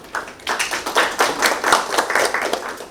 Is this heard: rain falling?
no